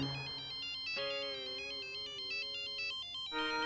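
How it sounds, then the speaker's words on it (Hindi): A phone ringtone plays a repeating electronic melody of bright tones, loud and close, for several seconds with no talking over it; the call is from a schoolteacher in a family household. "अथर्व की टीचर का फोन है"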